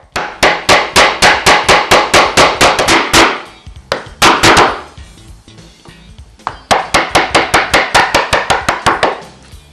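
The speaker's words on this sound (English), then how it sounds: "After using a utility knife and chisel to make saw guides on the shoulder of the trench, a small recess is chopped out next to the stop." A chisel chops a small recess into timber beside a housing-joint stop, giving rapid bursts of sharp, close, evenly spaced strikes, a short pause with a few scattered knocks, then another fast run of blows.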